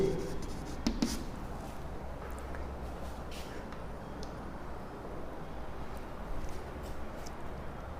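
Pen or pencil writing by hand during a biology lesson, a steady faint scratching across the whole stretch over low room hum, with a couple of brief louder taps near the start.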